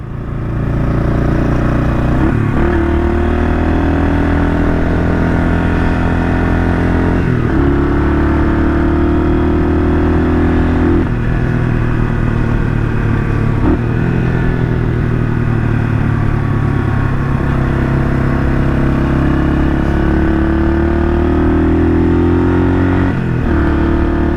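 A rebuilt 1978 Kawasaki KL 250 single-cylinder motorcycle engine under riding, loud and close, droning steadily with repeated rises in pitch as it accelerates through the gears and brief dips between shifts.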